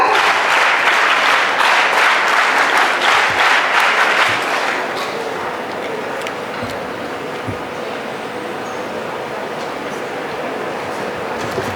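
An audience at a school investiture ceremony claps loudly for about four seconds, then the applause drops away to a low, steady room rumble with scattered faint knocks.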